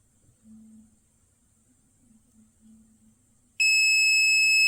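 A quiet, near-silent stretch with faint low hum, then a sudden loud, steady electronic beep from a Kaiweets KM201 multimeter continuity test sounds continuously at the end.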